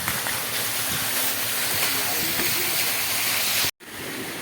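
A farm motor runs while a water pump is filled, giving a loud, steady broadband roar with a hissing rush of flowing water that cuts off sharply near the end.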